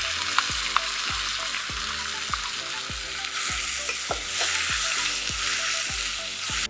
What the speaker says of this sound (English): So now I'm going to add the tomatoes.